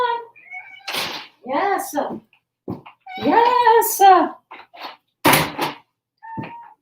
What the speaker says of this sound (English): Let me let the cat in.